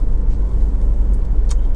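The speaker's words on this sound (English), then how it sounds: "On the move, it's just got a soft edge to its engine note. But more importantly, it just pulls so beautifully through the entire rev range." A Honda CR-V 2.2 i-DTEC diesel 4x4 pulls steadily on the move, its soft, low engine rumble continuous and close, with faint road noise over the whole stretch.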